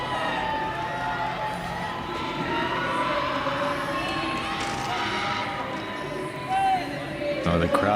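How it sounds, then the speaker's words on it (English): A loud, steady crowd roars and cheers throughout a CrossFit-style fitness competition finals at the Austrian Throwdown, with raised voices and occasional whoops mixed into the dense, continuous noise of a packed venue. "Oh, the crowd is into it. You hear all the people here."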